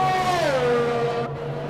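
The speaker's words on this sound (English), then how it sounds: "I can just hear his engine." Race car engine in a racing video game at Circuit Gilles Villeneuve, Canada, a loud steady buzzing drone whose pitch sags briefly, then holds under continuous running for under two seconds, with no talk.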